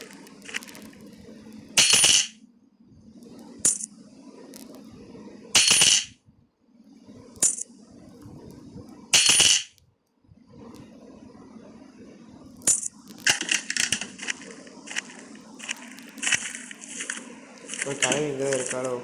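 Coins drop in the Granny horror video game, with several sharp metallic clinks and jingles spaced through the clip over a steady low game hum, followed by a denser burst of clattering near the end.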